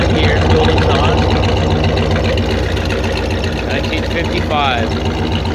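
A 1955 Ford Thunderbird engine runs through its dual exhaust, a loud steady idle rumble heard close, with a brief faint voice in the background.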